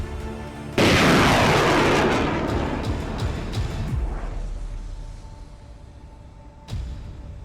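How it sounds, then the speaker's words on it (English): A British-supplied M270B1 multiple rocket launcher fires in Ukraine, a loud sudden roaring blast that rumbles and fades over several seconds, then a second sharp boom near the end. "showing its forces deploying a British-supplied M270B1 multiple rocket launcher in Ukraine for the first time"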